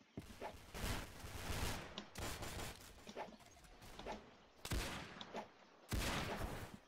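Gunfire in a video game, bursts of rapid shots and clattering volleys coming in several separate waves with brief gaps, fairly faint and distant-sounding.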